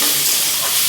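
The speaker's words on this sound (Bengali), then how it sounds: "এই যে সবজিটা দিয়ে দেবো" Vegetables hitting hot oil with cumin in a pan make a steady, loud, even sizzle and hiss, continuous and close with no break.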